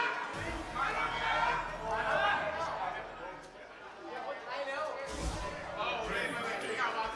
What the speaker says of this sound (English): the crowd is getting hype